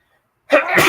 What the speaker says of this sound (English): And I think I'm gonna sneeze.